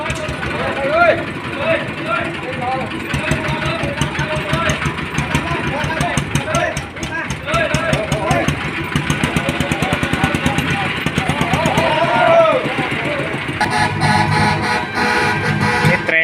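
An e-taen, a Thai farm vehicle, runs its engine at a village merit-making festival with a steady knocking chug and rhythmic clatter, while people talk loudly over it.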